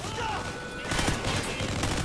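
Short burst of gunfire in the video game Call of Duty Ghosts, a rattling volley of shots over steady background game noise, moderately loud and brief.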